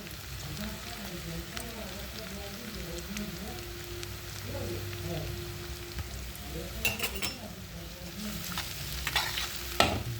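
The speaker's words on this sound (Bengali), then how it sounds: "পেঁয়াজটা লাল হয়ে গেছে, এবার দেবো রসুন।" Onions and garlic sizzle and fry steadily in a pan for an eggplant bharta, with occasional stirring and a few clinks of a utensil near the end.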